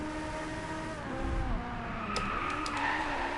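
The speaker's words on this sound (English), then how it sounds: "I'm turning into the next corner, braking, and the handbrake turn" A car slides through a handbrake turn in the racing game Driveclub, the engine droning loud and close while tires scrub and squeal, with a few sharp chirps near the end; no voices.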